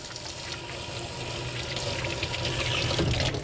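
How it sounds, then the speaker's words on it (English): Hands are washed with soap under a running kitchen tap. Water pours steadily and close by, splashing over the skin in a continuous wash with no talk. "Let me wash up my hands."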